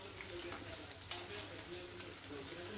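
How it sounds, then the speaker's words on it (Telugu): Chicken pakodi pieces frying in hot oil, a faint, steady sizzle with a couple of soft scraping taps as the pieces are stirred, quiet and close with no voice over it. "ఇలా కలుపుతూ వేపుకుంటూ ఉండాలి."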